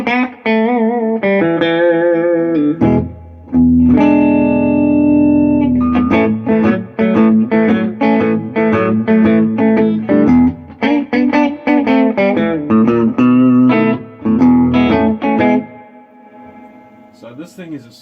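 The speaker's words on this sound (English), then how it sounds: "So that luscious reverb is back the way a Fender should sound." Fender Super Sonic 22 tube amp played with reverb at a low volume setting, electric guitar chords and single notes ringing out with a lush, wet reverb tail, steady and continuous without talk.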